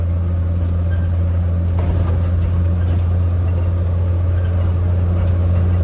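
Steady, loud low rumble of a 1953 Chevrolet 6100 flatbed truck engine running while driving, a constant deep drone with faint rattles on top and no voices.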